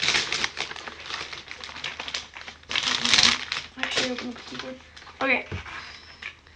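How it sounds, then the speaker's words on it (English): Keys clicking on a Logitech gaming keyboard, a dense run of quick crisp clicks up close, with a person talking over and between them. "Listen to the juicy clicking noise. It's such a juicy clicking noise."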